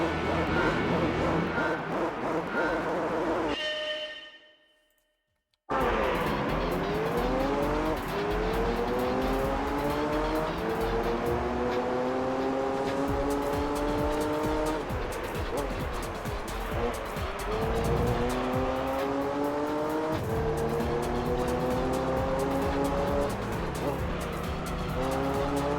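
Race cars roar through a Gran Turismo 3 race in a steady, loud engine drone, with gear changes and rising revs and tire squeal, broken by a brief silence early on.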